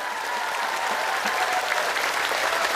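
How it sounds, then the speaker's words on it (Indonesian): Sustained audience applause at an Islamic religious gathering in Taiwan, a thick continuous wash of many hands clapping, with a faint murmur of voices underneath. "Kurang kenceng, tepuk tangan."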